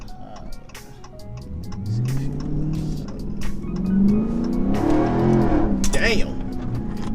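A Dodge 392 Scat Pack V8 with a Roar pedal installed revs and rises in pitch, the exhaust crackling with sharp pops and ticks, close and loud, while people talk over it.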